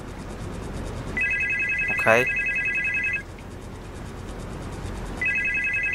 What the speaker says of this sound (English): Phone is not even connected. How is it ringing?